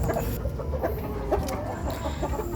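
A Shamo rooster in a backyard lets out a few close clucking calls over a steady background hum.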